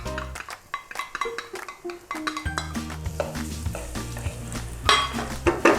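Garlic, with ginger added soon after, fries on low heat in a pan for a teriyaki glaze, giving a close, steady sizzle with scattered clinks and scrapes of a utensil against the pan.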